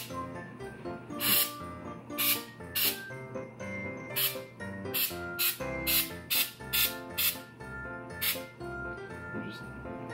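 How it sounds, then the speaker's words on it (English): Aerosol spray snow hisses out in a series of short, loud bursts, some close together and some spaced apart, over steady background music. "You sprayed over the hanging hole."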